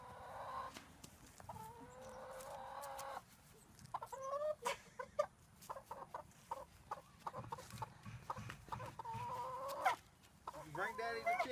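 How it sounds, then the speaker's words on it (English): Chickens cluck and squawk repeatedly in bursts throughout, close by, with a person talking over the birds at times. "Bring Daddy the chicken."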